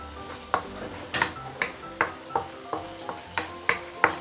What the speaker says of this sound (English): Let's saute this slowly for a couple of minutes before we continue to bring out the fragrance.